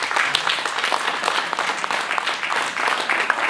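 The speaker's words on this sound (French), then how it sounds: "On peut les applaudir également." A crowd at an agricultural fair in Saint-André-les-Alpes claps for the volunteers and organizers, sustained, dense applause of many hands, fairly loud and even throughout.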